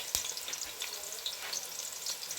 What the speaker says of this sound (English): My thyme all goes to fry first